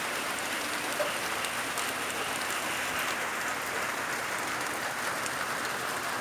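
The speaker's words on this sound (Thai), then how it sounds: "อยากให้เบิ้งซื่อๆดอกครับว่าฝนตกคืนนี้" Steady, dense rain pours down without a break, a constant hiss of drops hitting surfaces close by.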